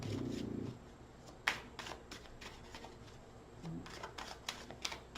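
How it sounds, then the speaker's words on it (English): Oracle cards being shuffled by hand, a quiet papery riffle and soft slaps with crisp ticks, following a brief murmured voice at the start. "One more shuffle."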